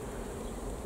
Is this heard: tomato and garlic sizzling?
no